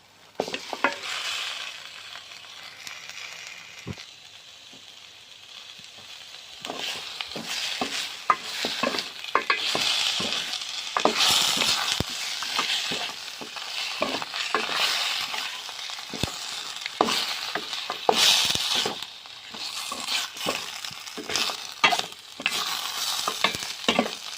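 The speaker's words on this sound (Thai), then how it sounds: "เอาหมูลงไปพัด เลยนะเจ้าพัดกับพริกแกงนี้เนาะ" Pork stir-frying with curry paste in a pan for a northern Thai pork-bone curry, with steady sizzling and frequent scraping, clinking stirs throughout, close and fairly loud with no talk.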